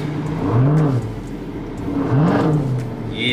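A Jeep Grand Cherokee Trackhawk SUV engine with its mufflers removed revs up twice, each throaty rise and fall loud and close, with a rough, unmuffled rumble steady underneath.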